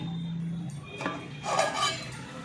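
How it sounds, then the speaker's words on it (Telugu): A metal pot lid set down on a pot of simmering tamarind curry: a couple of light clinks and a brief scraping rattle of metal on metal, close by, in a quiet kitchen. "ఇప్పుడు మూత పెట్టుకొని మసలిద్దామండి"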